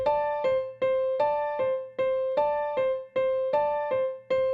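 A piano plays a repeating three-note pattern in a steady waltz-like rhythm from the introduction of a song, with each bright note ringing briefly before the next. It is clear and close, with no voices.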